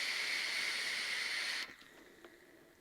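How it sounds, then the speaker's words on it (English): A vape coil in a Triple 28 RTA build gives a steady hot hiss and sizzle after a drag, running for a second and a half, then cutting off abruptly, leaving faint crackles in a quiet background. "I get about a 4 to 5 second hot sizzle sound"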